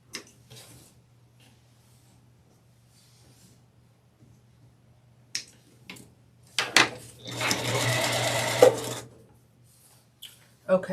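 A home sewing machine stitches beginner flying geese quilt block rows together. It runs in one steady, loud burst of roughly two seconds near the end, with softer handling clicks and rustles before and after it.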